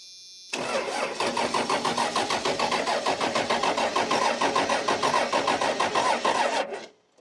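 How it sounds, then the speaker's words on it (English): A diesel engine cranks continuously for about six seconds while its injectors are bled, a close, loud, rhythmic starter churn that never catches, then cuts off abruptly; no talking. "we're ready to start cranking and bleeding the injectors"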